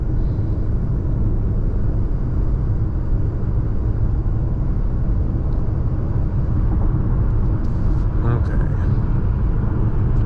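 Steady road traffic rumble from inside a moving 2021 Ford Bronco Sport, loud broadband cabin and tyre noise throughout, with a brief higher whine near the end.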